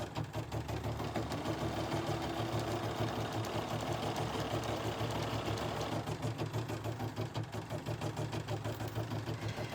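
A BERNINA embroidery machine stitches steadily, with a continuous fast mechanical whir and rapid needle chatter at moderate, even volume and no talking.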